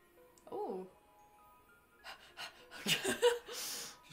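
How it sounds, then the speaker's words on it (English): Heavy panting and gasping breaths from a game character come in uneven bursts, mixed with soft effects and game sounds, and there is no talking. "Just doing my breathing exercises"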